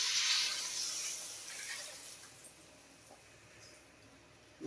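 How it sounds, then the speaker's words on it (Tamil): Water is poured into a cooking pot of mixed vegetable sambar, a soft splashing hiss that is strongest at first and then fades to a faint trickle. "தண்ணி சேர்த்துக்கலாம்."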